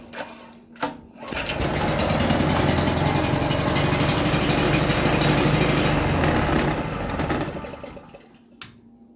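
A Black Maxx 3600 watt generator engine fires up after a couple of pulls and runs at a loud, steady buzzing drone for about seven seconds before cutting out abruptly.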